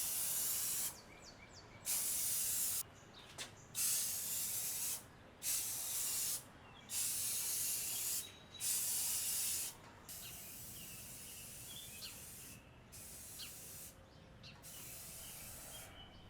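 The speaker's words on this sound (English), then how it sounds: "paint spray takes time to master" Paint sprayer spraying paint on window trim, a steady close hiss broken by repeated short bursts as the trigger is pulled and released, several spaced passes, with no talk.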